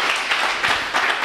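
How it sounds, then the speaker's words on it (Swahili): A church congregation claps hands for the Lord in a broad, steady burst of many hands, loud and rhythmic with slight surges, filling the space without voices on top. "Pigia Bwana makofi."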